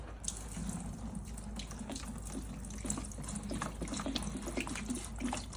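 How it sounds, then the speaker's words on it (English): White vinegar is poured from a container into another vessel, about ten litres for soaking an old rusted vice, giving a steady splashing, gurgling stream of liquid that runs without pause. "I'm just going to have to pour in the white vinegar now"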